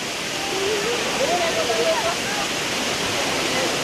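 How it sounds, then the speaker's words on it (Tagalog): Tinago Falls in Iligan City, a 70-foot waterfall with cold, clear water, roars as a steady, dense rush close by, with a faint voice briefly audible over it. "Malamig at malinaw ang tubig ng talon."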